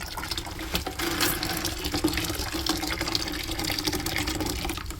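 Water rushes steadily out of an opened drain valve on a steam boiler during maintenance, a continuous hissing, splashing flow heard up close with no talk.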